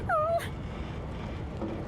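A dog whimpering in the video game Divinity: Original Sin 2, one short high whining cry at the start followed by quiet background ambience.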